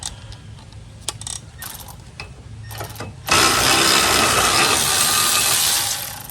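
A cordless power tool removes a brake caliper bolt on a 2008 Honda Civic. Scattered clicks and mechanical rattles lead into a loud, sustained whirring burst that runs for about three seconds before easing off.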